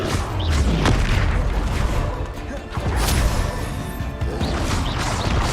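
Spells cast in the Hogwarts Legacy video game, including the Incendio fire spell, go off as loud booming blasts and whooshing crashes. The impacts follow one another closely in a dense, continuous battle din.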